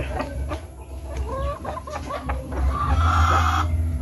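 Several Rhode Island Red hens cluck and murmur nearby in an ongoing chatter, with a low rumbling background and a steadier drone toward the end.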